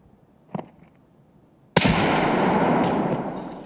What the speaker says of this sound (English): He's throwing a nade, but it's a bad, bad nade.